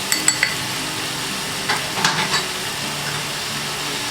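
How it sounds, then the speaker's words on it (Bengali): Spice masala with Kashmiri and red chilli powder being stirred and fried in a pan for a Peshwari chicken curry, giving a soft steady sizzle with a few light scrapes and utensil clinks, fairly close and without talk. "এবার এটাকে আমাকে কিছুক্ষণ কষাতে হবে।"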